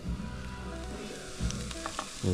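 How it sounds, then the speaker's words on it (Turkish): Garlic and a little onion frying in a hot pan at a campsite, a close, steady sizzle with a few clinks and scrapes of the utensil against the pan. "Sıcak tavaya. Sarımsak. Sonra birazcık soğan."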